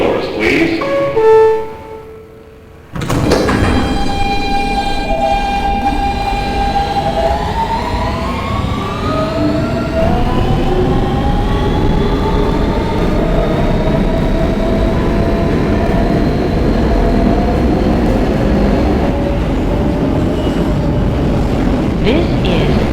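An R160B Siemens subway car on the New York W line runs loud and close, with steady rumbling wheel and track noise and a rising whine of the motors as it gathers speed after a brief quiet start.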